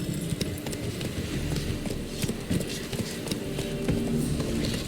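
Roach, the horse in The Witcher, gallops in a game scene, giving a steady, fairly close rhythm of hoof clops over a busy background of game sound.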